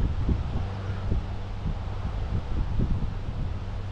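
Wind buffeting the microphone during a DJI Mini 3 Pro drone flight, a continuous low rumbling roar with soft irregular thumps and no speech.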